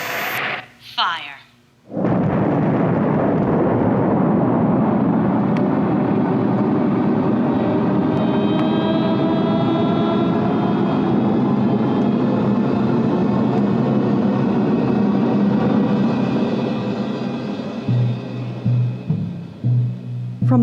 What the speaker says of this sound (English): Countdown for blastoff. X-5, 4, 3, 2, X-1. Fire.